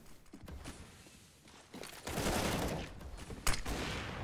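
Counter-Strike gunfire, a burst of rapid shots with one sharp crack near the end, heard fairly faintly among dense game noise and movement.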